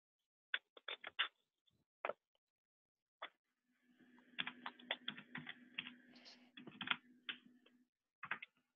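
Clicks of typing on a computer keyboard come in quiet, irregular bursts of keystrokes with a faint hum in the middle stretch, close and soft with no speech.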